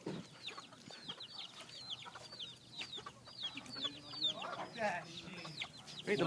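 Cartoon chickens cluck and chirp repeatedly in the video game Chicken Catcher, a busy, fairly quiet flurry of short calls running throughout over light background game sounds.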